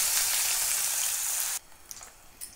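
Onions frying in hot oil with cumin seeds and bay leaf for an egg curry gravy, a loud steady sizzle that stops abruptly partway through, leaving a quiet pan with a few faint crackles.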